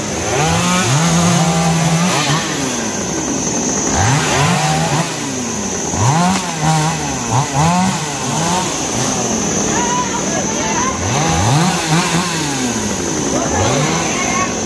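A chainsaw cuts down a heavily fruiting mango tree, its engine loud and close, repeatedly revving up and easing off in surges as it bites into the wood, with voices faintly underneath.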